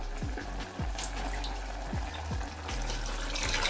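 A glass of water poured into a cooking pot, a continuous close splashing stream with a few low gurgling plops rising and falling over several seconds.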